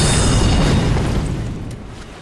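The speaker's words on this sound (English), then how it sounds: "He's trying to shoot magic." A magic attack fired by an invader in Dark Souls III lands as a loud, deep boom with a rumbling burst that slowly fades over a couple of seconds, with no voices over it.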